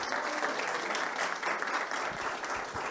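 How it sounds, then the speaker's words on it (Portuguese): Steady applause from an audience at a panel discussion, dense clapping at moderate volume lasting the whole moment. "A salva de palmas é para você"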